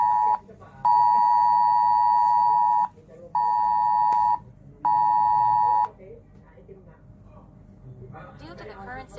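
An emergency missile threat alert sounds indoors as three loud, sustained electronic beeps separated by short gaps, with faint voices in the background afterward.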